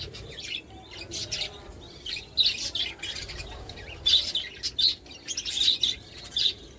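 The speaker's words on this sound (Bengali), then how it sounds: "এই দেখুন একটা ছোটো বাচ্চা পাখি, এরও এখনও ভয় কাটেনি" Young pet birds chirp in short, high bursts, several near calls scattered irregularly over a soft indoor background, with no talking.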